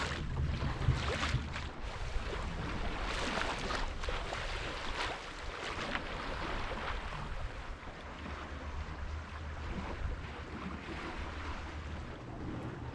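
A small sailboat under tiller pilot moves through the water with steady wave wash and gusting wind noise against the microphone, no voices.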